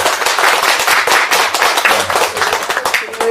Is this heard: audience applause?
yes